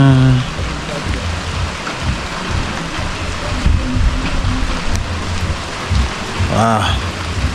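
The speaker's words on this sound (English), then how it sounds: "The first rain in the village since the day I arrived." Heavy rain falls steadily on surfaces in a Kenyan village, a loud, dense, continuous hiss of drops close by, with no talk over it.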